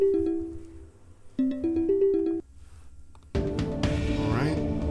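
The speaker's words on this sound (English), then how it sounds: "I had a phone call, and as you could hear" A phone rings with an incoming call: a bright, tonal ringtone melody plays in two short bursts separated by a brief pause, followed by a louder, denser wash of sound.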